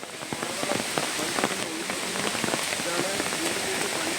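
Heavy rain pours onto a mountain pass road where mud and stones are sliding down, making a dense, steady close-up patter with scattered sharper knocks.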